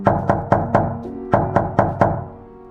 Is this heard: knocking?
yes